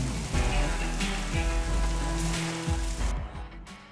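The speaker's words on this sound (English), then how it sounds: "hailing on us right now." Hail pelts a tent trailer's roof in a dense, continuous clatter of hard impacts, loud and close, with heavier bursts throughout and a brief drop-off near the end.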